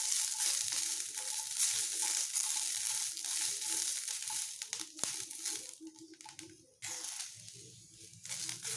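Whole raw green chillies sizzle in a hot pan for a dry fish chutney, a constant close hiss of frying broken by occasional scraping and stirring noises.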